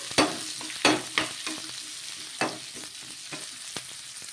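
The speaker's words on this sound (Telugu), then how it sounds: "ఉల్లిగడ్డ ముక్కలు, ఆనియన్స్ ముక్కలు కూడా వేసేసుకొని ఒకసారి బాగా కలిపేసుకుందాము" Spoon scraping and stirring chopped onions into a sizzling pan of leftover rice, several sharp scrapes in irregular rhythm over a low steady fry, close and clear.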